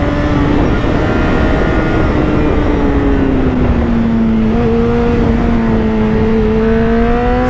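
A Honda CBR 600 RR motorcycle engine pulls loud and steady with a continuous drone whose pitch dips and then climbs as it accelerates, heard up close with no speech.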